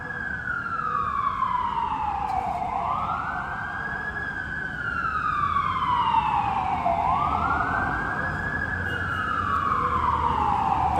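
A Toronto Fire truck siren wails, rising and falling in long sweeping cycles, loud and steady over low road rumble as the truck passes close by.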